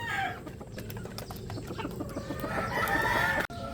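Roosters and pullets in backyard pens cluck and cackle busily while being fed, a dense close chorus of overlapping calls with scratchy movement, and no one speaking.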